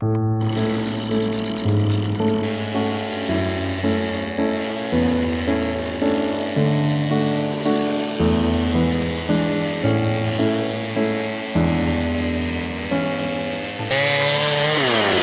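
A saw cutting firewood from a sorted material pile, a dull blade throwing very fine sawdust, running loud and close with a steady buzzing drone and rhythmic rises and dips in load, continuing almost without pause.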